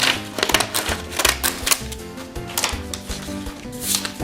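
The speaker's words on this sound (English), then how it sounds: "I'm going to take some crazy scissors and I'm going to cut a fence" Decorative edging scissors snip through paper to cut out a fence for a Gaudí-inspired paper park craft, giving a steady run of close, crisp cutting clicks with no talking.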